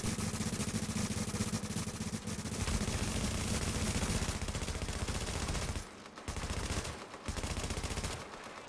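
Rapid automatic gunfire in the video game The Division during a legendary mission at Warrengate Power Plant, dense continuous bursts that are loud and sustained, breaking off briefly near the end.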